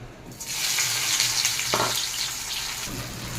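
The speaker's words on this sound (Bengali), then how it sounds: "কালো জিরা শুকনো লঙ্কা ফোড়ন দিয়ে দিচ্ছি। একটা বড় সাইজের পেঁয়াজ কুচিয়ে দিচ্ছি।" Oil sizzles steadily in a pan as nigella seeds, dried red chillies and chopped onion fry, a continuous crackling hiss with a brief clatter partway through.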